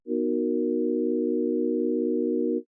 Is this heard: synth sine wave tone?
yes